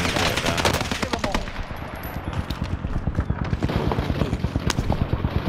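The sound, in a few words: gunfire in a shooting video game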